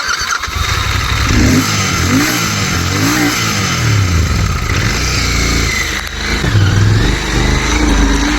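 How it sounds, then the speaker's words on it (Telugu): A Royal Enfield GT 650 motorcycle engine revs loudly and continuously on a test drive, rising and falling in pitch with repeated throttle swells close by. "నేను ఒకసారి అయితే ట్రస్ట్ డ్రైవ్ చేసి చూపిస్తాను మీకే."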